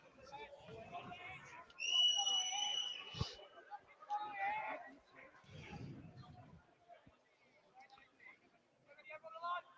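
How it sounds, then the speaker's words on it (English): A referee's whistle sounds over a murmuring football crowd at a Gateshead FC versus Yeovil Town match as a penalty is about to be taken. It is a bright, moderately loud blast that stands out from the background hubbub. "The referee blows his whistle now."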